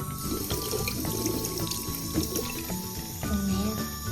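Tap water runs steadily into a sink while a dug-out Kuromi toy from a crystal excavation kit is washed, with close splashing and a few clatters of the toy against the basin throughout.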